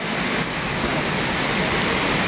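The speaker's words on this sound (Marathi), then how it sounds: "तिकडे बघा धबधबा आहे" A roadside waterfall in the Konkan hills pours in a dense, unbroken roar of rushing water, loud and close, with no voices over it.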